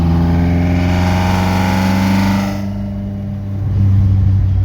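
A Mk2 track car's 2.0 16v engine with individual throttle bodies runs steadily while driving at a low, droning pitch, dipping briefly in loudness partway through before swelling back up.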